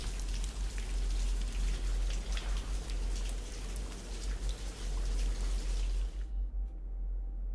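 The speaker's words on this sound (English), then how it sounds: "That was a very quick rain" Steady rain pattering in the video game Fallout 13, a dense, close hiss of drops over a low rumble that cuts off abruptly near the end, leaving near silence.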